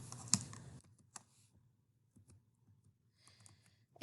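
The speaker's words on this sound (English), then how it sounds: "we're going to type in Freddie." Quiet typing on a computer keyboard, with a few scattered key clicks and a short louder flurry of keystrokes at the start and near the end, in an otherwise still room.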